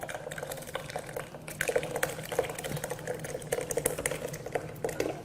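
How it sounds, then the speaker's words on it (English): Cooled ice cream ingredients pour into an ice cream maker, a steady close liquid splashing and trickling with small clicks and knocks over a few seconds. "You just pour the cooled ingredients right inside."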